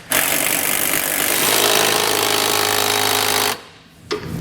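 A power tool tightens a bolt on a nerf bar bracket while fitting Westin Platinum Series oval nerf bars to a 2013 GMC truck. It gives a loud, steady, buzzing rattle close by for about three and a half seconds, then cuts off, followed by a brief faint knock.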